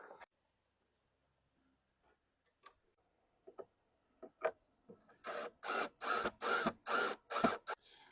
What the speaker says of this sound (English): I'm going to go ahead and put those screws in now.